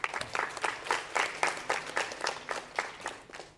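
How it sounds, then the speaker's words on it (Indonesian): A modest audience claps for a debate team at a competition, the individual claps distinct and rhythmic, fairly sparse and moderately quiet, with no talking over them. "mohon tepuk tangan dulu untuk Regu A"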